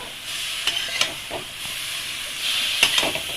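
Cabbage fries in hot oil with a bright, hissing sizzle, punctuated by several sharp spatula scrapes and stirs against the pan, close and fairly loud.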